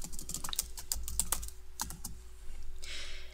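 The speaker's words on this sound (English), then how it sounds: "I simply just start typing." Fingers tap steadily on a computer keyboard nearby, a quick, uneven run of light clicks over a quiet room hum, with no voices.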